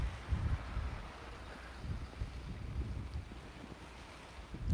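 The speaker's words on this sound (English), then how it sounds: "It is a nice day. It's just windy." Gusty wind buffets the microphone outdoors during a brisk walk, a low rumbling roar that swells and eases unevenly throughout with no voices.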